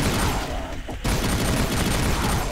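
Dense, loud, continuous gunfire from a heavy weapon in Brutal Doom Project Brutality, rapid shots running nearly the whole time with only a brief dip in the middle.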